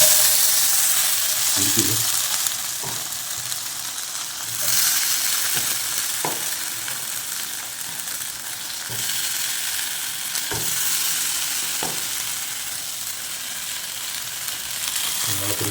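Fish fries in hot oil in a home kitchen with a loud, steady sizzle and hiss that fills the whole stretch. There are occasional clinks and stirring taps, and a voice speaks briefly underneath.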